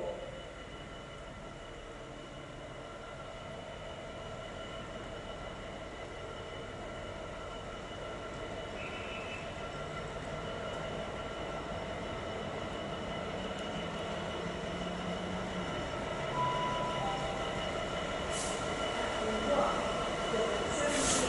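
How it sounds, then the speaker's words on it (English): A train runs through a station platform without stopping, a sustained rumble of wheels and carriages building gradually and staying loud, with brief squeals and an announcement voice over the station. "The train now approaching platform 4 does not stop here."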